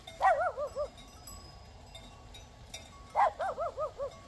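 A dog barks in two short bursts of several quick yaps each, separated by a quiet pause, fairly close with no talk over it.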